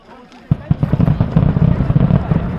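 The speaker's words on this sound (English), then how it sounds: "And there's fireworks going off." Fireworks popping at Teotihuacan near the Temple of the Sun, a rapid irregular series of sharp bangs and crackles beginning abruptly and continuing steadily, fairly loud against open-air ambience.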